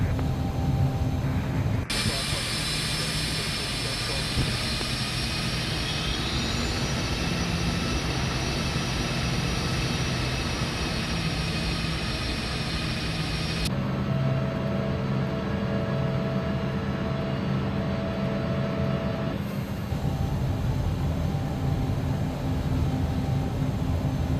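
An aircraft engine in X-Plane 11 takes off from Dublin and climbs toward Nantes: a loud, steady engine roar that holds throughout and shifts in tone partway through, with occasional voices underneath.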